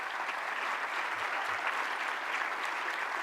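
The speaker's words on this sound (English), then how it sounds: "I want a round of applause for both of them." Steady, dense applause from a conference audience at a consumer rights litigation event, a continuous wash of many hands clapping at even loudness throughout.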